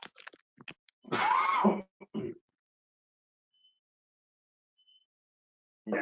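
A short cough followed by throat clearing, with a few small mouth noises before and a quieter hack after, then near silence.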